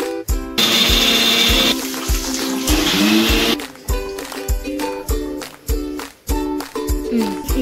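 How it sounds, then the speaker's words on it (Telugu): A kitchen mixer grinder whirs loudly as it blends tomatoes, a steady motor roar broken into short repeated pulses, with no voices. "టమాటా మిక్సీకి వేసుకోవాలి."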